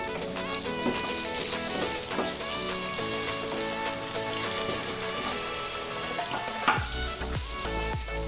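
Chopped beetroot sautéing in a pan for a beetroot thuvaiyal, a steady close sizzle and crackle with occasional stirring scrapes, with faint music underneath.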